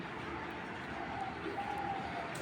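Imported racing pigeons coo faintly in a few soft, low murmurs beneath a steady background hum, with a little talk nearby.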